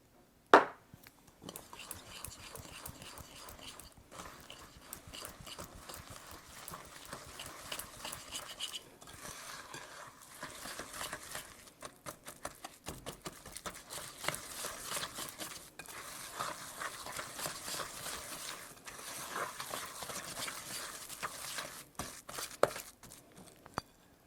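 A spoon stirs sugar, brown sugar and salt into brookie batter in a bowl, with close scraping and thick swishing strokes and occasional clinks against the bowl that repeat steadily and without pause.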